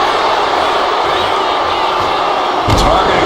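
In the WWE 2K25 wrestling game, an arena crowd roars in a constant dense wash of cheering. A dull thump lands near the end as the noise swells a little.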